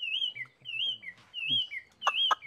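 A hwamei songbird in a village home sings close and clear, a run of repeated rising and falling whistled phrases with short pauses and a couple of sharper notes near the end.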